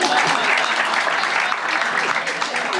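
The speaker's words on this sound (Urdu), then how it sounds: "تو تالیاں بجائیں." Dense, steady applause from the audience at a literature festival conversation, loud and continuous for a few seconds, with faint voices underneath.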